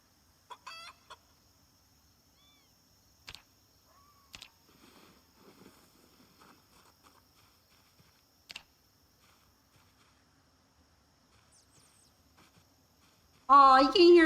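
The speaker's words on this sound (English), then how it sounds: "Aw, you can hear the cute chicks." Chickens cluck and a rooster crows in the survival game Project Zomboid, with sparse, faint clucks and clicks scattered across a quiet stretch before a louder burst of clucking at the end.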